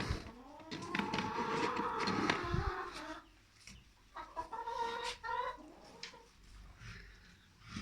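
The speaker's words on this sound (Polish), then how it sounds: "Tutaj siedzi nam kurka karzełka polskiego złocisto szyja" A Polish gold-necked bantam hen clucks close by in a series of short, uneven calls, with brief pauses and a few sharper notes between them.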